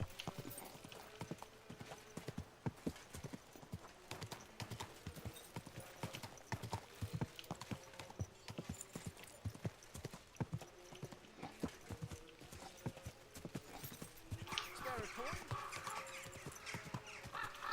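Hooves clip-clop steadily and evenly at a walking pace on a hard path in Kingdom Come Deliverance 2, fairly quiet, with a faint neigh and a little background game ambience.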